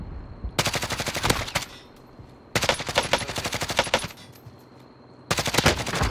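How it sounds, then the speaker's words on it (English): Rapid automatic gunfire in Call of Duty Warzone, three long loud bursts of closely spaced shots separated by brief pauses, with no talk over them. "I'm getting sniped from deep."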